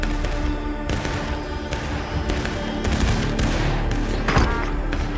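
Dense musket volleys in the War of Rights Civil War game, set in a winter battle: repeated sharp cracks and thuds rolling together as a continuous loud fusillade with no pause across the whole stretch.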